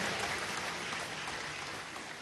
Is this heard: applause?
yes